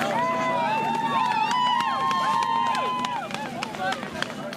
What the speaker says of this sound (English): a bundled-up crowd gather around a square hole in the ice